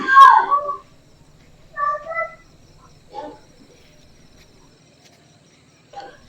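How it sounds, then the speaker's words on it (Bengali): In quiet countryside at dusk beside a mustard field near a Ganges river ghat, a few separate bird calls and chirps ring out one after another against near silence. "এই নিরিবিলি এলাকায় আপনারা শুনতে পাচ্ছেন বিভিন্ন পোকামাকড়ের পাখিদের আওয়াজ"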